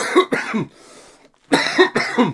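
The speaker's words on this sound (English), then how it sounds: "I still got me cough." Two separate bursts of harsh, throaty coughing, each a quick double cough, split by a short quiet pause.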